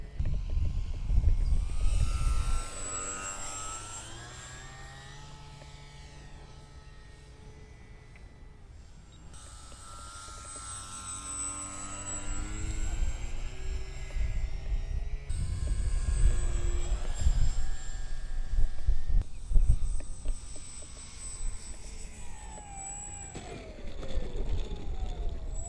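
A Dynam T-28 Trojan radio-controlled model plane makes low passes, its electric motor whining and shifting in pitch as it comes near and loud, fades off, then sweeps past again.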